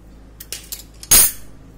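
A metal spoon scrapes and clinks in a pan while stirring modak filling with cashew and almond slivers, giving a few light taps and then one louder, sharper scrape, close and without talk.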